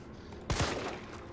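A single sharp gunshot burst from the Resident Evil 3 Remake video game, firing abruptly midway through a quiet stretch and trailing off in a short echoing tail, no talk over it.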